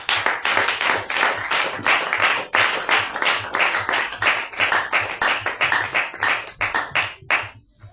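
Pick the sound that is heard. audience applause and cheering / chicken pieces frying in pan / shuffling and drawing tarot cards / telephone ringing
audience applause and cheering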